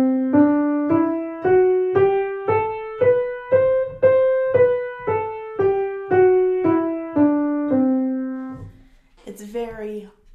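A C Lydian scale played on an instrument, about sixteen evenly spaced, plucked-sounding notes climbing and then descending, close and clear, followed by a brief spoken voice at the end.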